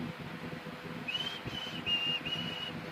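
Someone whistles a short tune in a few clear, sustained high notes over quiet background noise, fairly soft and alone.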